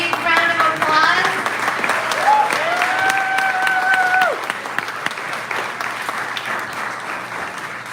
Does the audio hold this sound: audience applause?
yes